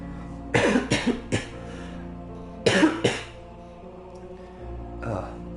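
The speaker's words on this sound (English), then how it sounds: "Excuse the coughs." Two clusters of harsh coughs close to the microphone, three then two, followed by a softer throat sound near the end.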